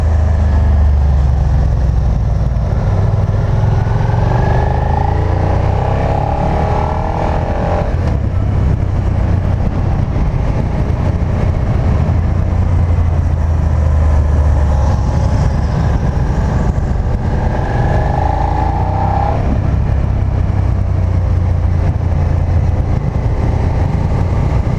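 Steady low engine rumble from a 2019 Suzuki SV650X motorcycle while riding, loud and continuous close by, with wind noise and no talking.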